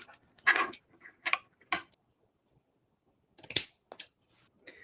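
Scissors cut through ribbon in short, crisp snips, a quick cluster near the start, then a pause of near silence before a few more close cuts toward the end.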